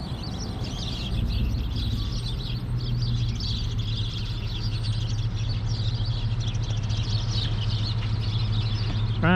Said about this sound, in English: A lot of birds in that tree.